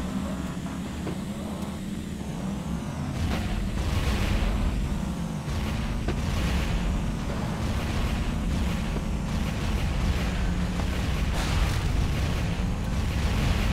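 Bombs and missiles exploding in the car combat video game Bombastic Cars: a run of booming blasts and sharp bursts over a steady roar of engine and game noise, loud and continuous.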